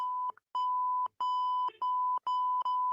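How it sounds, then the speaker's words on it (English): A sensor beeps six times in a steady sequence, each tone loud, electronic and fairly long, with short silent gaps between them and no voices. "I thought it's a sensor beep in this"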